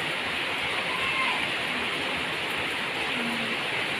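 Rain falls steadily outside a terrace as a constant hiss of drops, close and even, with no clear breaks over a few seconds.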